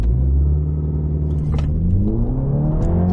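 A 2021 Mini John Cooper Works with front-wheel drive makes a launch-control start. Its engine roars loud and close, the pitch climbing steadily through the acceleration, with no speech.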